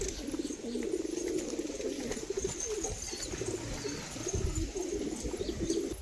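High-flying pigeons kept for sale coo in low, throaty, overlapping calls that roll on steadily and fairly close throughout, with a soft background hiss and occasional faint chirps.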